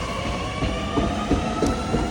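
A train rumbles past nearby with a steady, loud roar and faint rhythmic wheel clatter throughout, with no voices.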